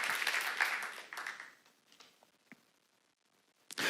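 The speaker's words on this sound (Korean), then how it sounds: "박수 한번 쳐봐" A burst of audience clapping at a church seminar, fairly loud at first, thinning quickly into a few scattered claps, then near quiet before a brief sound at the end.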